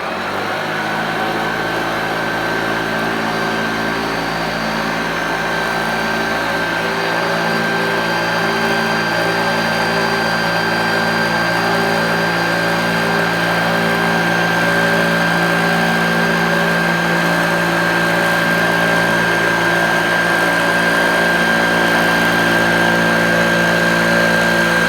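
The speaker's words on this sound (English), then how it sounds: "Okay, I've got the vacuum here." Hoover Junior U1036 upright vacuum cleaner running steadily at close range, a continuous motor whine with a strong high tone and layered hum, holding at constant loudness throughout with no talk.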